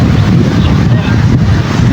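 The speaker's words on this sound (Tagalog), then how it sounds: "napakalakas po ng hangin ngayon" Loud, blustery wind roaring against the microphone by the sea, a constant rumbling rush with surf-like noise beneath.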